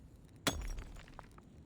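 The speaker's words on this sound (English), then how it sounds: "the gemstones on the table shatter all at once, their luster gone" Gemstones on a table in the game Reverse: 1999 shatter all at once in a single sharp glassy crash, followed by a short scatter of tinkling fragments over quiet background ambience.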